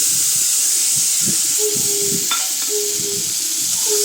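Ginger and cumin paste hits hot oil for Bengali aloo dum, giving a loud, steady sizzling hiss throughout with a few faint stirring taps.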